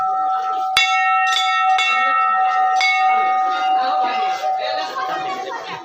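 A metal temple bell struck by hand three times in slow succession, each stroke ringing out with a bright sustained tone that decays under a busy background of voices and crowd noise.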